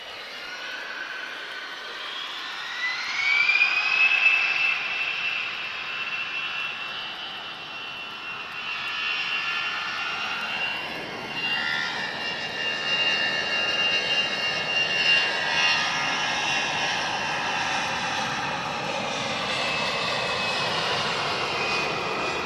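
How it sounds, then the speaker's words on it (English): An Airbus A330 departs on a wet runway at Lisbon Airport, its jet engines building to a loud roaring whine, then a broad sustained rumble mixed with spray hiss that carries on steadily from a distance. "we're going to get an A330 departure with a wet runway"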